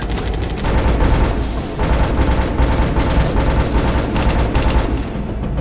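Sustained automatic gunfire in a co-op shooter video game, loud, dense bursts of shots rattling almost nonstop for several seconds with only brief gaps and no talk.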